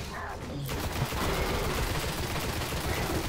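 Sustained assault rifle fire in Destiny rattles on as a continuous loud, dense burst after a brief quieter start, with rapid shots blending into a steady roar, while a voice talks faintly underneath.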